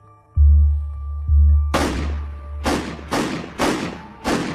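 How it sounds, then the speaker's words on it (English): Five heavy gunshots, heard as muffled booming thuds, ring out in a hallway during a crime documentary, spaced roughly half a second to a second apart and preceded by a low rumbling thump. "And then 5 gunshots ring out."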